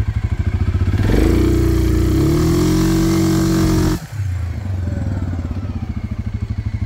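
A 2022 Suzuki KingQuad 750 ATV takes off uphill in high gear, its engine rising from a thumping idle into a loud, steady pulling drone. It drops off abruptly and then settles back into a lumpy idle nearby.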